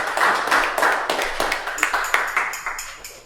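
Lecture audience clapping for a speaker on Canadian Prairie folk furniture, a short patch of scattered, uneven handclaps close by that thins out over a few seconds.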